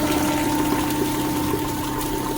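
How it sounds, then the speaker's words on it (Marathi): A steady stream of water splashes into an air cooler's tank, with a constant hum running underneath the whole time. "आता मी कूलरमध्ये पाणी भरत आहो, हे बघा"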